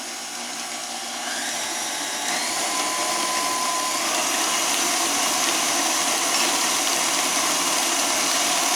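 Electric mixer beating pumpkin bundt cake batter in a bowl, a steady close whirring drone that rises slightly in speed after the first second and runs on without talk.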